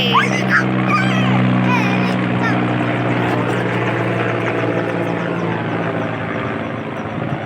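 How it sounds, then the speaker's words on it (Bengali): A helicopter passes overhead above a rooftop garden, its steady rotor drone loud and continuous throughout, fading slightly toward the end. "আর এই দেখো হেলিকপ্টার যাচ্ছে"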